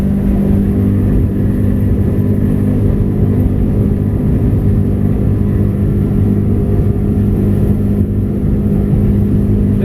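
A 20-foot North River Seahawk motorboat engine drones loud and steady at full throttle, a constant low roar with rushing water and wind, no voices.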